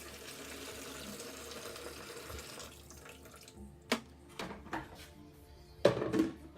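Boiling water poured over sugar for beer brewing makes a steady running splash that fades out, followed by a few sharp knocks and clatters of the container, with no talking.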